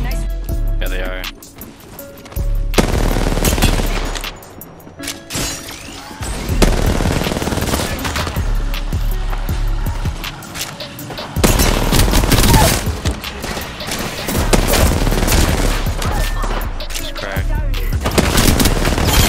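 Rapid automatic gunfire from a shooter video game comes in loud repeated bursts separated by short lulls, with people talking over the shots.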